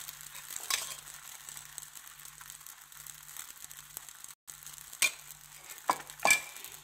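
Semolina bobbatlu flatbread frying slowly in ghee, a low steady sizzle with a few sharp clicks and scrapes of a utensil on the pan.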